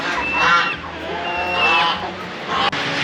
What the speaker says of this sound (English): There's some turkeys.